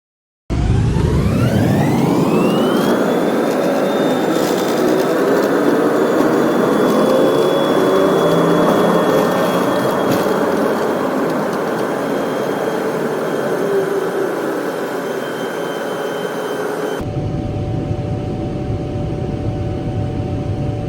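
Jet engines of a Singapore Airlines Boeing 777 spooling up for takeoff, heard from the cabin and sped up, a loud steady roar with a rising whine that holds, then shifts abruptly near the end.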